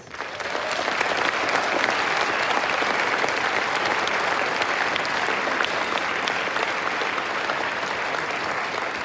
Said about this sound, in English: let's give a huge round of applause and thank you to all of their band directors